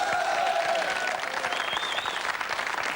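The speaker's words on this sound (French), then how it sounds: "C'est les Rumbalada qu'ils applaudissaient." Steady audience applause for the Rumbalada on a French TV entertainment show, a dense wash of clapping from a studio crowd, moderately distant and continuous throughout.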